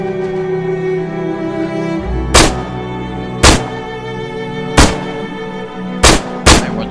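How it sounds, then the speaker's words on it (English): Five sharp, loud gunshots ring out at irregular intervals over a low background drone in the Arma video game, Takistan Life mode. "I'm trying to shoot at him."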